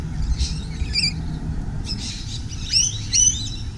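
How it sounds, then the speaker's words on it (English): Several birds chirp and tweet close by in a walk-through aviary, with short bright calls and rising whistles scattered over steady low background rumble, no voices. "The walk through aviary now. You know, you can get up extremely close to the birds."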